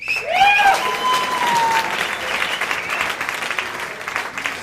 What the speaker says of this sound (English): Let me hear you clap if you don't have kids.